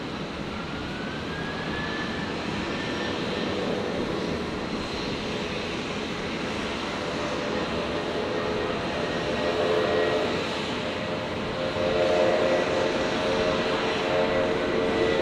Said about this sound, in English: So Jetstar 800 here, just cleared for departure.